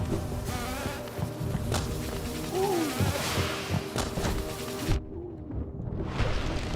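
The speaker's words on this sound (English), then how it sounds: "That's a lot of bees." Swarm of tiny aggressive bees in the Hollow Knight video game, a dense continuous buzzing drone mixed with game effects and impacts, steady and fairly loud throughout.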